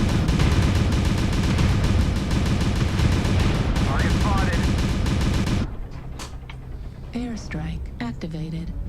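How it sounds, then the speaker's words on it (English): Airstrike in MechWarrior Online: a dense, loud barrage of rapid blasts and rumbling booms pounds for several seconds, then cuts away to quieter battle noise with scattered electronic chirps and beeps. "Airstrike activated."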